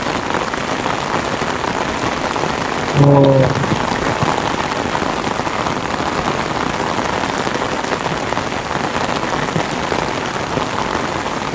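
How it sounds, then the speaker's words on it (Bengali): Heavy rain pours down steadily on surfaces during a storm, a dense unbroken roar across the whole stretch, with a brief voice and a short tonal sound cutting in once near the start. "এখানে এমনই বৃষ্টি হচ্ছে"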